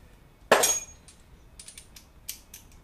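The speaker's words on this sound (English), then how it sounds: "You got your gear wrench, you got your low profile ratchet." A low profile ratchet wrench gives a sharp, close burst of clicking, then several lighter, quicker clicks follow in short spaced bursts against a quiet background.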